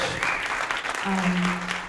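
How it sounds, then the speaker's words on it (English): Audience applause from volunteers and guests at an evening community event, a short burst of clapping that holds steady at moderate volume, with a sustained tonal hum entering partway through. "Big round of applause for you, because thanks so much."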